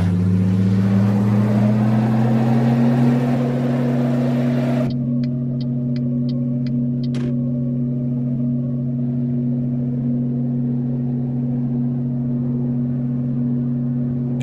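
Big rig diesel engine labouring hard under load in American Truck Simulator, a loud continuous drone that rises in pitch, then settles into a steady grinding rumble with a few faint clicks partway through.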